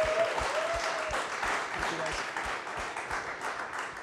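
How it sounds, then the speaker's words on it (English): A crowd applauding steadily, a dense patter of many hands clapping at moderate volume for a few seconds. "Can we get another round of applause for these guys"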